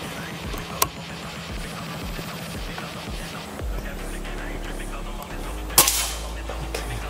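A single sharp air rifle shot cracks out near the six-second mark, with a smaller snap earlier, over steady outdoor background noise during a five-shot target session with a new air rifle.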